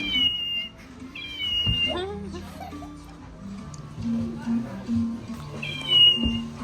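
A toy cat meows in high electronic tones, several short repeated mews at the start and again near the end, with chatter and laughter from children and adults in between.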